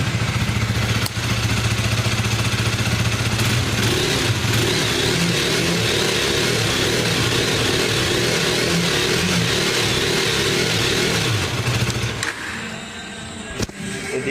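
A KTM Duke 390 motorcycle engine, started with the self-starter, runs steadily with a throaty, continuous revving drone, loud and close, then cuts off abruptly near the end.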